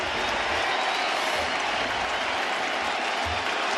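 A baseball stadium crowd at a Tigers–Yankees game roars steadily with a dense wall of cheering and clapping as fans urge on strike three, loud and unbroken throughout.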